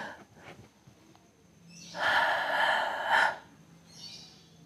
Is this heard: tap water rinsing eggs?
no